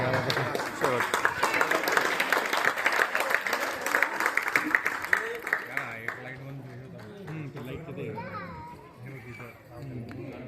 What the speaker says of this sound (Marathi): सगळ्यांनी टाळ्या वाजून प्रतिसाद द्यावा.